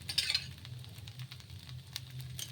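Oil sizzling on an instant dosa as it fries on a hot pan, a soft steady crackle at moderate distance with a brief brighter burst near the start, no talking.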